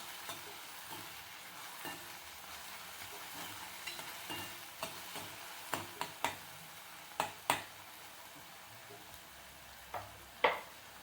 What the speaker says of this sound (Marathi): आता हा टोमॅटो पण व्यवस्थित भाजून घ्यायचं